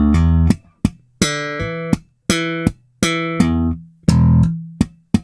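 An electric bass run through the reamp channel of an Ampeg SGT-DI plays slow, separate notes, each a loud, deep plucked tone that rings and then is cut off, heard close and alone.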